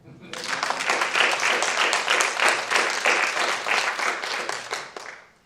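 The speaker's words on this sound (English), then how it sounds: "I think we should clap for that." Audience at a conversation event on Black history breaks into applause that swells quickly, holds as dense, lively clapping for several seconds, then tapers off near the end.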